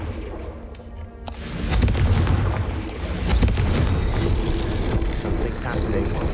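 A Confringo blasting spell explosion in the game Hogwarts Legacy, a sudden loud boom about a second in followed by a rumbling, crackling roar that stays dense and heavy to the end.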